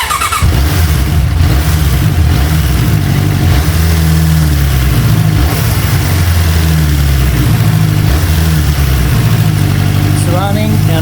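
A restored 1988 Suzuki GSX-R 750 motorcycle engine idles loud and close, its rough, uneven run wavering in pitch throughout, with the carburetors still unadjusted.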